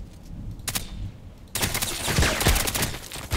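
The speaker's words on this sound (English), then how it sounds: "That's actually an automatic, like a machine gun." A VSS Vintorez automatic rifle fires in a video game: a brief early burst, then dense, loud, rapid automatic fire that continues to the end.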